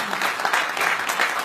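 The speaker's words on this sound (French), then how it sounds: "On peut l'applaudir." A short burst of applause from attendees at a meeting in the French National Assembly in Paris, many hands clapping close and fairly loud in a steady, dense patter.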